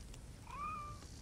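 A single drawn-out meow from a cat in Assassin's Creed Origins, faint and clear above a low game background hum.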